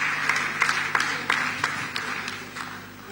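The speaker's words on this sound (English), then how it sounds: "Please clap, clap, clap for them again." Audience applause at a panel event on female leadership in Nigeria, a dense steady patter of many hands clapping with a few sharper claps poking through, fading slightly toward the end.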